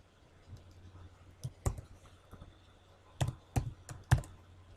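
Typing on a computer keyboard, several separate bursts of close, crisp key clicks with short pauses between them, alone with no talk.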